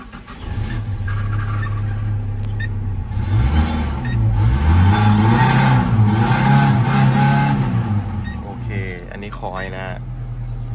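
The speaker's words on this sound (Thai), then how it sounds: "มาสตาร์ทเครื่องดูกันนะ จากตอนแรกสตาร์ทแล้วเครื่องรถจะเร่งไม่ขึ้นนะครับคันนี้" A Tata truck engine that had been failing to rev up is started and runs with a steady low rumble. It revs up in rising and falling surges in the middle, then settles back to idle. A voice speaks briefly near the end.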